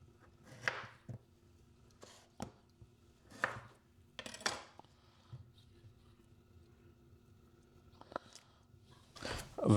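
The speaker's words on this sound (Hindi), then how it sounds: "बिल्कुल फाइन चॉप कर लेना है।" Tomato, onion and coriander are finely chopped on a board with a knife, giving a few close, irregular bursts of chopping and knocks with quiet gaps between them.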